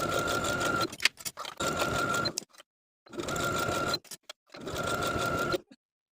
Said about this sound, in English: Now I'll use a medium zigzag stitch to sew that folded elastic to the inside